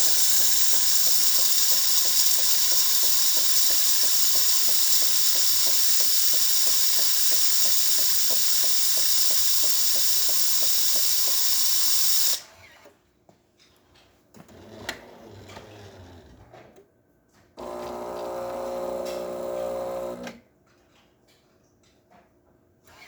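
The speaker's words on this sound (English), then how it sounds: "it'll just steam out to the side because I don't have a hose for it." Steam hisses loudly and steadily out the side of a Jura coffee machine with no hose fitted, carrying a fast ticking rattle, then stops abruptly and leaves quieter mechanical noises and a shorter burst.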